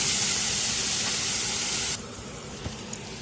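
Mutton curry ingredients fry in a pan with a loud, steady sizzling hiss that drops abruptly to a quieter sizzle partway through, with a couple of faint clicks afterward.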